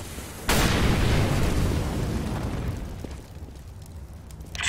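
An incendiary grenade bursts in a tactical shooter with a loud, sudden boom, then a long, roaring crackle of fire that slowly fades, with no voices over it.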